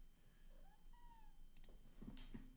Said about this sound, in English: Cat is angry because we're streaming late.